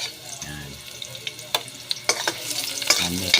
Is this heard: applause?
no